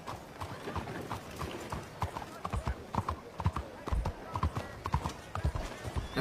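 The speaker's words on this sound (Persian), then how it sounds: "حتی صدای سوم اسب هم تو هر جای فرق داره" Horse hooves clip-clop steadily in Red Dead, a brisk, even rhythm of close, distinct hoof strikes with an occasional whinny layered over ambient game sound.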